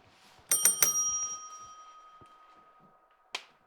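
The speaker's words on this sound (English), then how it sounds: "That's the sound the bell makes when it wants the match to start." Match-start bell in Counter-Strike during a Cloud9 vs OpTic esports match: three quick bright metallic dings ring out together and fade slowly, followed by one short faint strike near the end, with no voices.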